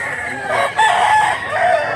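A fighting rooster at a cockfighting derby in Mantalungon, Cebu, gives one loud, close crow lasting about two seconds, with crowd noise underneath.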